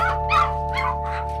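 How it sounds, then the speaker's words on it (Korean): Dogs bark in a dark greenhouse puppy mill, a run of four or five quick, loud barks close by over a steady low hum, with no voices. "앞을 분간할 수 없는 어둠 속에서 개 짖는 소리가 들립니다."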